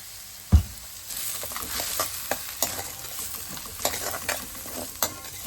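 Sliced onions with a pinch of salt sautéing in a hot pan, a steady close sizzle with a sharp clatter near the start and repeated soft scrapes and stirs of a spoon, no voices.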